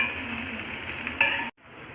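Garlic, dried red chillies and onion fry in hot oil with a soft, steady sizzle and light stirring, close and quiet, cutting off near the end.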